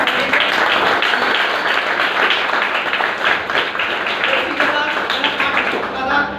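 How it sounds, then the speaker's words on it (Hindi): An audience claps together in a steady, dense round of applause that fills the whole stretch at close range, with voices mixed in beneath the clapping. "आप लोगों की तालियां बजाएंगे कितना अच्छा होता है।"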